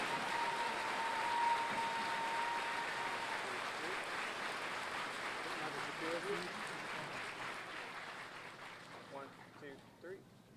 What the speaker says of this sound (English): Please join me in a round of applause for our retiree and their families.